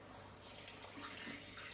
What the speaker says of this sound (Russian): Залью все водой.